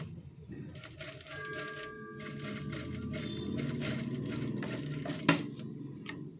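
A sewing machine stitches a canvas pentagon-shaped neckline, running in steady fast bursts with a brief pause near the start and a sharp click late in the run, close and fairly loud.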